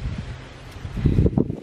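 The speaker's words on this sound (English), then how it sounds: "it's getting a bit windy" Garden leaves rustle in a breezy gust, a soft continuous hiss that swells briefly louder near the end, heard close with no talking.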